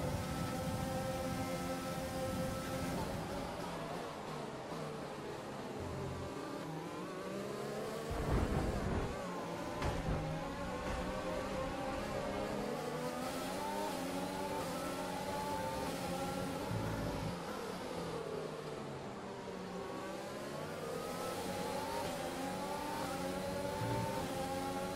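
ORC race cars accelerate out of the pits after a green flag, engines rising and falling in pitch as they pass, steady mid-distance roar with a louder swell near the middle.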